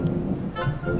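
Cartoon rain and thunder form a brief, soft, steady patter with a low rumble underneath, heard alone without any speech.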